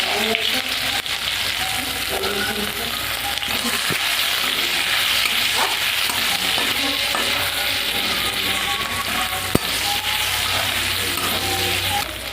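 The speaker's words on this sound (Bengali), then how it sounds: "প্রথমে আমি মাংসটা কষিয়ে নেব, তার জন্য আমি পেঁয়াজটা দিয়ে দেবো।" Onion frying in a pan as the base for chicken chow mein, a steady close sizzle with occasional spatula scrapes and ticks against the pan.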